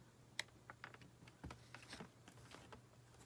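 A playing card being trimmed with a run of small, quiet clicks and taps, irregular and close, with a faint low hum underneath and no talking.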